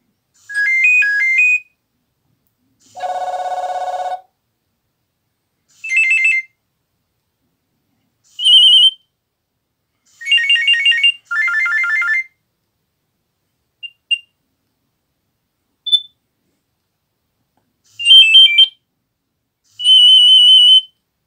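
A sequence of short electronic ringtone melodies from a Nokia 6230 phone, each burst a few notes long, separated by silences, clear and close.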